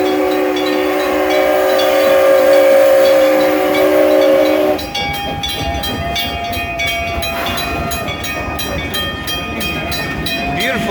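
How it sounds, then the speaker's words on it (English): Amusement park passenger train at Six Flags Over Texas, a sustained horn blast for about five seconds followed by rolling wheels clicking rhythmically over the track at close range. "Beautiful looking train. Holds quite a few people actually."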